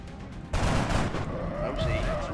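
A soldier fires in XCOM: Enemy Unknown, a sudden loud burst of gunfire that cuts in sharply and rattles on with crackling echoes for about two seconds.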